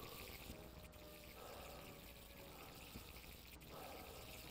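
Steady running water in a Puppet Combo horror video game, a continuous broadband rush and trickle that stays at an even level throughout, with no voices over it.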